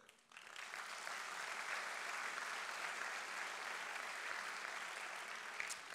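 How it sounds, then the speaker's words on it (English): Audience applause in a university lecture hall at the University of Rhode Island, starting abruptly and then holding as a steady, even wash of many hands clapping at moderate distance for several seconds. "We shouldn't clap after every person."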